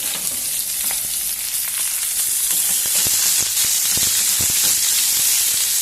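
Onion pieces and green chillies frying in oil in a pan for egg fried rice, a steady close sizzle with occasional spatters and stirring scrapes, no talk.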